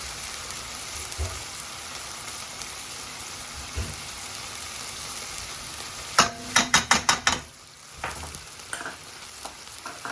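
Shallot and garlic fry in a hot pan for a calamari and creamy mushroom rice dish, making a steady close sizzle, then a quick run of sharp stirring clatters and a brief dip before the sizzle resumes.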